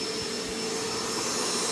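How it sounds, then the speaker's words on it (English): A plugged-in vacuum cleaner runs with a loud, steady whooshing roar and a high motor whine, continuous throughout with no talking. "So we'll plug your vacuum in."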